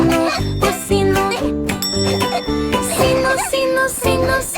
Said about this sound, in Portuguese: Eu escondi a campainha, din, din, din.